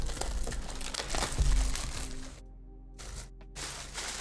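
A Dragon Shield card sleeves display box being unwrapped, with close, steady crinkling and rustling of plastic packaging that is broken by brief near-silent pauses.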